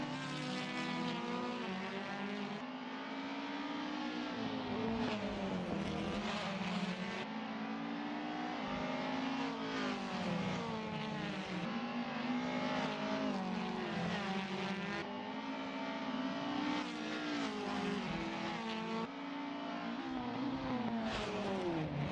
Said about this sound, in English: A lot of smoke coming off the rear end of the Honda as Eric appears to be locking up his wheels.